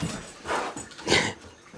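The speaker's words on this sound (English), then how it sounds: "That noise was Sheriff falling off the couch and startlement that we're home." A dog tumbling off a couch, startled as its owners come home: a few short muffled thumps and scrabbling bursts with a brief whimpering yelp, fairly faint in a quiet room.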